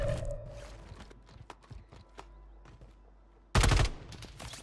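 Warzone gunfire comes in scattered sharp shots and short bursts, with a loud burst of fire near the end.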